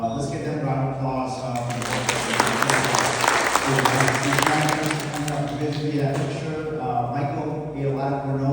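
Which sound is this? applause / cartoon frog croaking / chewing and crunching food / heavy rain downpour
applause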